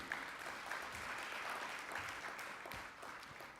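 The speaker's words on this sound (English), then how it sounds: "Give him another round of applause, if you would, please." A round of applause from a convention breakfast audience at a press association gathering, steady broadband clapping that fills the room for several seconds at moderate volume before easing slightly at the end.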